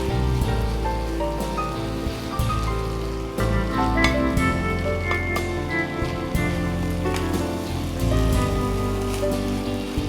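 Chicken sausage fried rice is stir-fried in a pan on a TV cooking show, with a continuous loud sizzle, repeated scraping and stirring, and tonal background music underneath.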